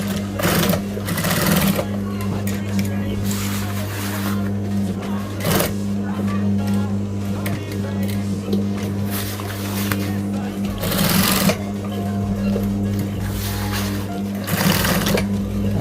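Sewing machine running almost continuously while stitching a shoe bag, close and steady, with a few louder rattling bursts along the way.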